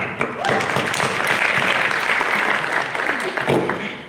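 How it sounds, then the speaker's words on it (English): An audience at a content creation launch event applauds, a sustained crowd of clapping at steady volume, with a little voice sound mixed in and tapering at the end. "Yes, let's clap."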